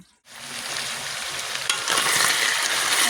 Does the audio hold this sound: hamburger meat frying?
yes